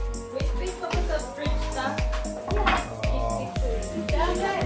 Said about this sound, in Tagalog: Yan yung mga aso nyo.